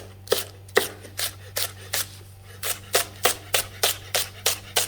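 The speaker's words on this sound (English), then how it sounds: "Thinly slice green onion or spring onion." Knife thinly slicing green onion on a cutting board, a brisk series of about a dozen crisp, evenly spaced chops close to the mic over a low steady hum.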